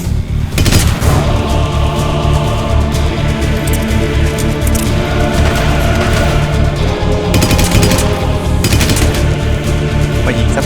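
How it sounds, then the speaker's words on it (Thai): Loud, close shotgun blasts in the video game Hitman Absolution, with repeated heavy booms and crashing bursts over a dense, continuous game soundscape. "ปืนลูกซอง"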